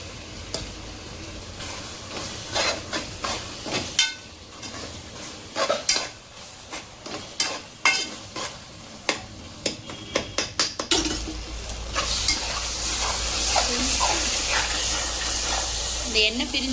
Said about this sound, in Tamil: இந்த எண்ணெய் பிரிஞ்சு வர அளவுக்கு நல்லா வதங்கணும்